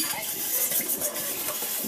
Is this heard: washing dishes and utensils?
yes